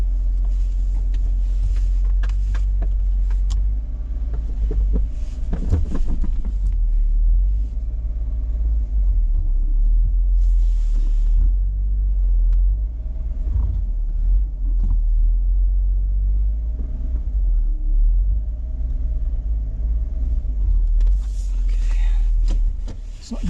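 An Arctic Edition Jeep JK crawling off-road at an off-road park, its engine a deep steady rumble with occasional creaks and revving surges, muffled by persistent wind noise for the whole stretch.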